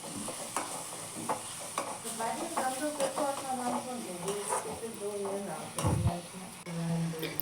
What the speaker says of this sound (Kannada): ಜೊತೆಗೆ ಈರುಳ್ಳಿ ಹಾಕಿ ಫ್ರೈ ಮಾಡ್ಕೊಳ್ಬೇಕು.